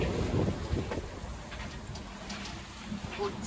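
Wind gusting across a sailboat, an Amel Santorin, with broadband rushing buffeting the microphone and low flapping rumble throughout, strongest early then steady; no clear talk.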